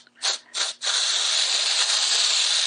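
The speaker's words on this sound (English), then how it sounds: "Or you can use a pearl sheen spray that we have." Edible cocoa butter pearl sheen spray hisses onto decorated Christmas tree sugar cookies: two short bursts, then one long continuous spray, close and fairly soft.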